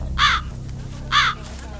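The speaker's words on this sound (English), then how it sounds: "A lone crow cawed, sharp and hollow, as if warning of what was to come." A lone crow caws twice, sharp and hollow, in a foggy wooded setting, with two clear, well-spaced calls standing out against a faint low background hum.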